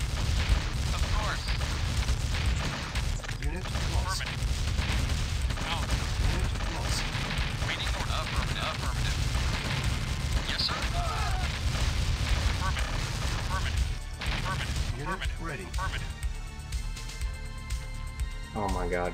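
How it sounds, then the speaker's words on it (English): Mammoth tanks firing in the real-time strategy game Red Alert 1, a dense, continuous barrage of booming cannon blasts and explosions over game sound, with a voice talking now and then. "Oh my god, freaking mammoth tanks."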